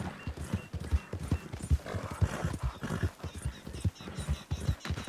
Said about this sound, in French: J'ai quand même eu droit à un cheval.